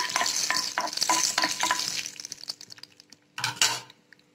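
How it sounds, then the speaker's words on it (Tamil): Cashews crackle and sizzle in hot ghee while a spoon stirs and scrapes the pan, then it goes quieter with a few last stirs. "இதை நல்லா ப்ரௌன் கலரில் நல்லா நெய்யிலே வறுத்துக்கலாம்"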